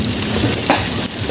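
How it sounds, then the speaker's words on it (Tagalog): Tofu frying in a pan at a home kitchen, a steady close sizzle and crackle of hot oil throughout, with a brief stirring scrape midway. "Dito naman po ay ako nag-fry-prito ng tofu."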